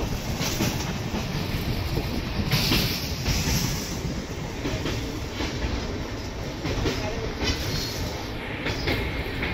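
A passenger train rolls along rails on a journey through Tamil Nadu, its steady rumble and rhythmic clickety-clack of wheels continuous and close throughout, with no voices.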